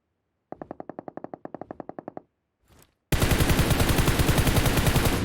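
Automatic weapon fire in PUBG Mobile, a rapid even burst of about fifteen shots, a brief pause, then a dense sustained spray of gunfire that continues loudly to the end.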